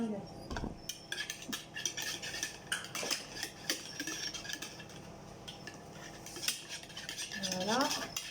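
Spoon scraping and clinking against a bowl while ingredients for a courgette gratin are mixed, an irregular run of scrapes and taps, fairly close, with a faint voice now and then.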